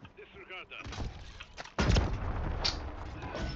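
A mine explodes in the video game Warzone 3 as a sudden loud boom followed by crackling gunfire-like rumble, after a stretch of game sounds and people talking.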